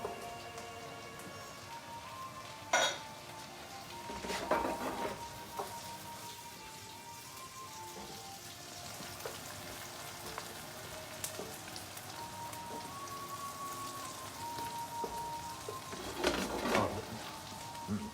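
Celery sizzling steadily in a hot pan, a soft continuous crackle and hiss with a few louder pops, heard close with no talking.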